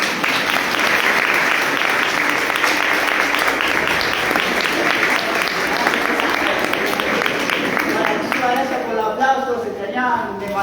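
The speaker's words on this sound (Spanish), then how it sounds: "Demasiado los aplausos" An audience at an inaugural psychology lecture gives sustained loud applause, dense clapping that fades toward the end as a voice begins speaking.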